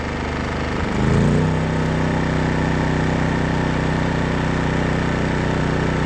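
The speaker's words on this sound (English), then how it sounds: "it's gonna draw more. power, so it's the RPMs are going to go up, and I want you to hear that" Small inverter generator engine running steadily, its pitch and load rising about a second in as a backup battery charger is plugged in, then holding a higher, even drone close by with no talking.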